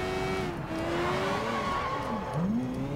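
Car handbrake skid in the video game Sleeping Dogs: a steady engine drone with a wavering tire squeal running through it, continuous and fairly close for a few seconds.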